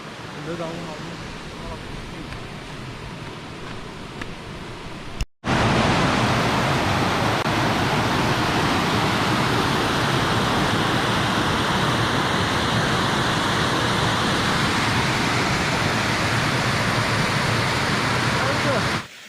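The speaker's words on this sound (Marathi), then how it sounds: "हा बघा धबधबा." A waterfall on the forest trek route toward Bhimashankar, running with reduced flow, roars as a loud, close, continuous wash of rushing water after an abrupt cut from quieter outdoor sound.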